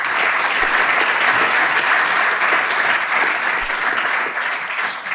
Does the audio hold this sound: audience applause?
yes